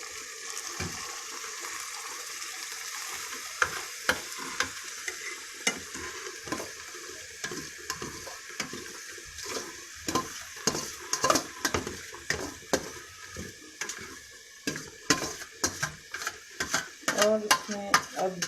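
Rice goes into melted sugar in a pot for wedding-style degi zarda and is stirred, making a soft constant sizzle and hiss with spoon scrapes and clacks that grow busier and louder toward the end.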